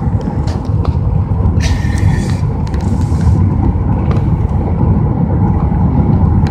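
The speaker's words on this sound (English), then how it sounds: "It's the highway drive I'm on, going on the 95 right now." Steady road rumble and tire noise from inside a 2012 Chevrolet Impala cruising at highway speed on Interstate 95, with a brief hiss of passing traffic.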